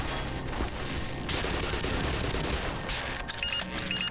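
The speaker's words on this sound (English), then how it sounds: "Oh shit, they got the machine gun." Sustained machine gun fire rattles continuously in Black Mesa, a dense and loud stream of rapid shots with a few brief sharper cracks, and no talking.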